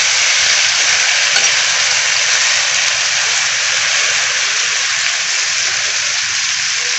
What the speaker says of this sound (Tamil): இப்போ நம்ம இந்த ஸ்டஃப் பண்ணி வச்சுருக்கிற கத்திரிக்காய் சேர்த்துக்கலாம். நல்லா பரட்டி விட்டுருங்க.